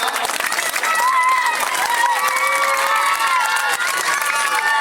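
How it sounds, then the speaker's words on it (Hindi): A crowd at an Urdu mushaira poetry gathering cheers and claps continuously, with shouting voices mixed into the steady noise. "ताली बजाओ जी, ताली बजाओ।"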